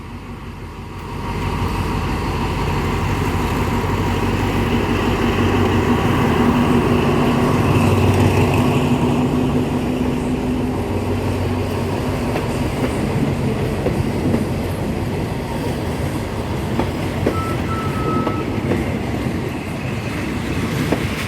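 An Alsthom diesel-electric locomotive engine rumbles steadily as a train rolls past at Thonburi station, with rhythmic clanking of wheels on rail joints, loud and close throughout.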